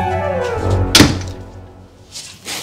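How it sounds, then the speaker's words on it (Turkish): A door in a house is pushed shut, a single heavy thunk in the middle, close and loud, with low room noise before it and a faint rustle afterward. "Kapat şu kapıyı."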